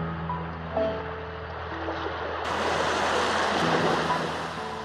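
Ocean surf washing onto a beach, a steady broadband rush of breaking waves that swells slightly louder halfway through, with no voices.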